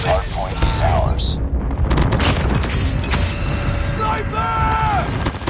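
Call of Duty Mobile Hardpoint match: rapid bursts of gunfire and booming explosions from an airstrike crowd the scene, loud and dense, with electronic game tones and a voice-over callout mixed in.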